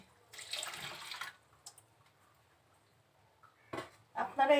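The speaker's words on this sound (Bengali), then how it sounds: "পানি দিচ্ছি" Water pours into a pot of washed red lentils in two short splashing bursts, separated by a quiet pause, fairly soft and close.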